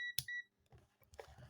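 A multimeter set to continuity gives short electronic beeps while checking an electrical contactor, a couple of brief tones up close followed by faint handling clicks and rustle.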